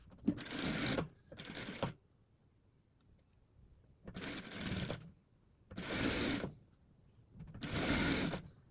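A sewing machine stitches patchwork fabric in five bursts of rapid, whirring needle clatter, separated by short pauses and one longer gap, fairly close and with no talk.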